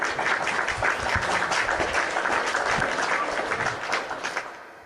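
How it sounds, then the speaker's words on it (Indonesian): An online religious debate audience gives a round of clapping to welcome the guest Nimairu, a lively mix of many hands at close range that fades out toward the end. "Kita kasih tepuk tangan dulu Nimairu."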